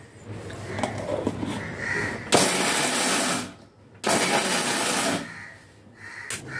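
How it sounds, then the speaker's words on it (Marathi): A kitchen mixer grinder pulses peanuts into a coarse grind for sesame-jaggery peanut chikki: two loud, close whirring bursts of about a second each, separated by a short pause, with quieter kitchen noise before and after. "शेंगदाणे आता आपल्याला मिक्सरला बारीक करून घ्यायचे आहे"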